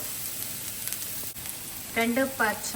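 Garlic cloves, about a dozen, frying in hot oil over medium flame for Kerala-style pork roast, a steady close sizzle with a brief voice near the end.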